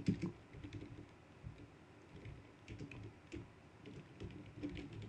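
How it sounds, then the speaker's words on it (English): Computer keyboard typing while a layer name is entered in Photoshop: scattered soft key clicks in an irregular rhythm, quiet and close, with no talking. "Or I'm going to type in a name."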